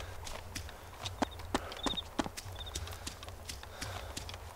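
A cow walks in the survival video game DayZ, its hooves landing in distinct, fairly close clops at an uneven walking pace over a faint background rumble, with no speech.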